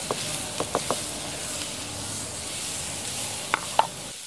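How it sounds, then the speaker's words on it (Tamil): Soya chunks curry in Jaffna style stirred in a pot, a faint hiss of cooking under scattered sharp scrapes and clinks of a spoon against metal, close and quiet, with no talking. "இப்போ சோயா மீட்டை போட்டதுக்கு பிறகு எல்லாத்தையும் நல்லா அப்படியே கிண்டிட்டு மூடிடுவோம்."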